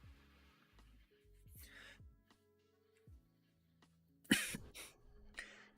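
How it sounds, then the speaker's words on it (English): Someone with a cold coughs and clears their throat in a quiet room, a few short scattered bursts with a sharper, louder cough near the middle and another toward the end. "I really apologize in advance for my coughing."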